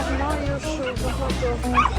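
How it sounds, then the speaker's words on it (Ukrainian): Dogs bark and yip nearby on a seaside beach amid a background of people chattering outdoors. "А, собак багато."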